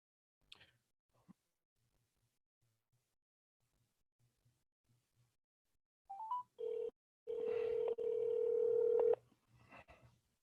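Telephone dialing to reconnect a lost call: faint clicks, then a few short tone bursts and a long steady dial tone, quiet and alone.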